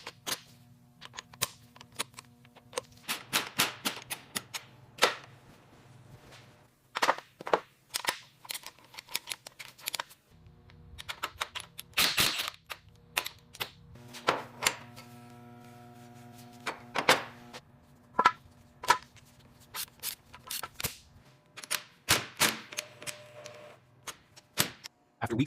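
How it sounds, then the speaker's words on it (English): Torque wrench tightening engine bolts during reassembly of a Lamborghini Huracan's components, sharp metallic clicks and ratcheting snaps in irregular clusters, close and crisp, with brief low hums between bursts. "we meticulously apply the correct torque sequence. Listen for the click."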